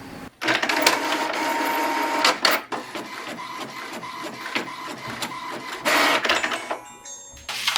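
Home color printer printing a map, a loud mechanical whir with rapid clicking and rattling as the paper feeds, broken by short pauses and bursts of carriage movement, with no talking.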